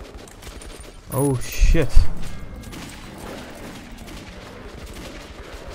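Gunfire during a gun battle in the video game Metro 2033 Redux, a short loud burst of shots over low ambient noise, with a man briefly exclaiming.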